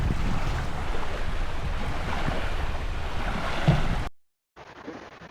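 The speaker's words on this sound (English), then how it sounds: "It's kind of windy right now" Steady wind rushing and buffeting the microphone outdoors by the Hudson River in New York City, loud and continuous, cutting out abruptly before resuming more quietly.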